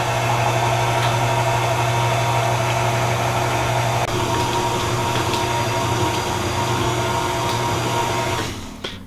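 A stand mixer fitted with a dough hook kneads green St. Patrick's Day pizza dough, giving a steady, close motor hum with a droning whir that runs unbroken before winding down at the very end.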